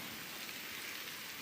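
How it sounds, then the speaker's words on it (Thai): Rain falling in a forest during an afternoon of mushroom gathering, a steady soft hiss of drops with no gaps or voices over its short span. "ฝนตกครับผมบัดนี้"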